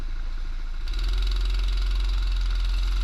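Go-kart engines roar together at the start of a wet race on a kart track in Yogyakarta, a steady loud droning mass that swells after the first second.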